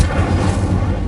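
A fire spell bursts in Hogwarts Legacy, a dense, steady roaring blast of flame with heavy low rumble sustained across the whole moment, loud and close with no voices.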